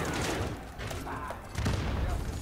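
Gunfire in the video game Warzone, a busy run of muffled shots and thuds with a heavier burst near the end, mixed under a speaking voice.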